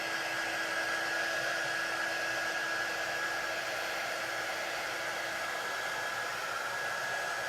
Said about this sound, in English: And this is just our drying tool. It's not really hot. It's really just warm air.